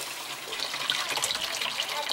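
Water from a newly installed kitchen faucet runs steadily into the sink drain, a continuous close hiss and gush with no talking.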